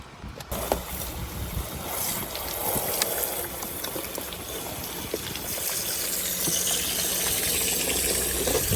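A pressure washer's steady, hissing spray flushes a gutter fitted with gutter guards, rushing and splashing close by, growing slightly louder over time, with no voices.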